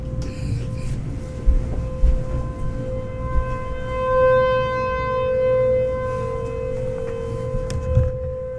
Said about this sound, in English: That's a fucking siren, yeah.